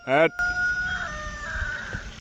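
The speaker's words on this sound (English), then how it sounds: "Thanks, rooster. Just going off right now." A rooster crows once near a garden entrance being cleaned up with a rototiller nearby, a loud harmonic call rising and falling in its opening burst, then trailing into a long held tone over quiet outdoor background.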